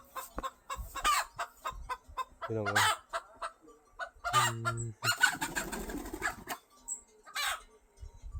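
Chickens cluck and call repeatedly at close range in a rural yard, with a few louder crowing bursts among the clucks and brief speech in between.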